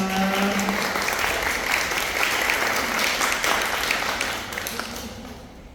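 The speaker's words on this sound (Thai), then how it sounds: "ขอเสียงปรบมือเป็นกำลังใจให้กับน้องๆด้วยนะครับ" A crowd at a youth contest event claps steadily in dense, sustained applause that gradually fades toward the end.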